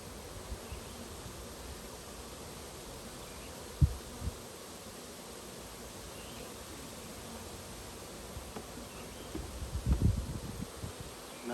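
Bees hum in a soft, continuous drone around a swarm trap outdoors, faint and steady with a couple of brief knocks and a rustle near the end, no voices.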